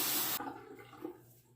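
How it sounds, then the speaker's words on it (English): Running water rinses a Pearl safety razor, a steady loud splash that cuts off sharply after a moment, leaving faint drips and handling sounds. "And I'll rinse the razor"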